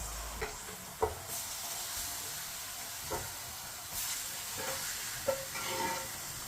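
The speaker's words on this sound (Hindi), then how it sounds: "अब इसमें चिकन डाल लेंगे जो हमने मसाला लगा के रखा था।" Masala-marinated chicken sizzles and fries in a pan over lowered heat, a steady hiss broken by a few thuds and scrapes as the pieces go in and are stirred.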